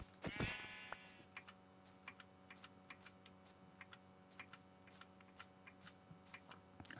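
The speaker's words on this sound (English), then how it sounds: "Sheep." A sheep in a video game lets out one clear, wavering bleat at the start, followed by faint regular ticking and soft clicks over a quiet hum.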